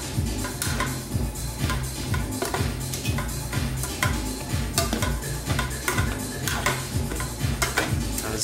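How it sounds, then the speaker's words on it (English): Salad with tomatoes being stirred and mixed in a bowl, giving repeated close clinks and scrapes of utensils against the bowl in a steady rhythm over a low continuous background hum. "It needs a little stir."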